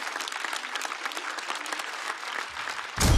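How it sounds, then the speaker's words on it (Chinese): Audience applause at a Chinese stand-up comedy competition show, a dense wash of clapping that holds steady for about three seconds, then swells louder at the very end as cheering joins in. "再次掌声送给2位。"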